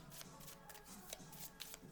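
Oracle cards from a moon goddess deck are shuffled by hand, making a faint, quick run of papery riffles and soft flicks close by.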